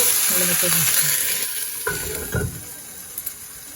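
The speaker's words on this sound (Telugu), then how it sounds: "చూడండి కూర వేగిపోయింది. బాగా వేగింది." Flat beans curry sizzles and fries in a pan, a steady close hiss with a few stirring scrapes and clinks under it.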